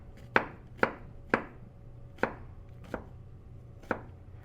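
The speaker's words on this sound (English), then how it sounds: "This cuts up just like the onion does" A knife chops vegetables on a board in six or seven sharp, evenly spaced knocks, close and clear, with quiet pauses between strokes and no talking.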